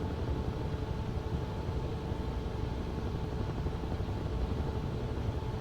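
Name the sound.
Huey helicopter in video game Microsoft Flight Simulator 2024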